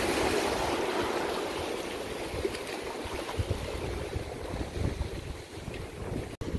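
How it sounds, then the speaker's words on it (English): Big waves washing ashore on a country beach, a broad continuous roar and rush with wind buffeting the microphone, loud and close throughout with no talking. "All right, some big waves coming now."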